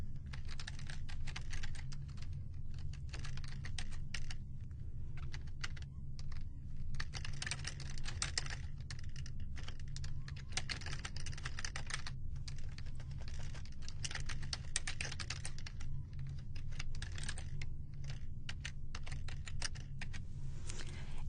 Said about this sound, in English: go ahead and type in the database server.